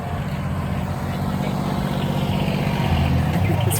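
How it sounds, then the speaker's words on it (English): A small tractor drives past beside a lake with mountains behind it in the Rocky Mountains, giving a steady, fairly loud low engine rumble that continues through the whole moment. "The little tractor going by."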